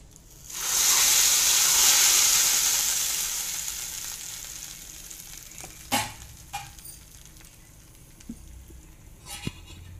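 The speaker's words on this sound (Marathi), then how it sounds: "छान अशी आपली फोडणी तयार झाली. आपण आता चटणीमध्ये ओतूया." Hot oil tempering with a pinch of asafoetida is poured into chutney, giving a loud sudden sizzle that swells then slowly fades, followed by a few soft clinks and stirring sounds.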